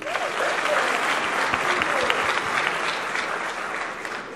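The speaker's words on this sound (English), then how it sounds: "We're going to clap for her." An audience claps for Kano's wife at a live comedy show, a steady, dense round of applause that holds evenly throughout, with a voice faintly underneath.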